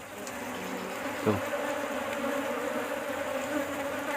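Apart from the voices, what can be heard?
honey bees buzzing at an opened hive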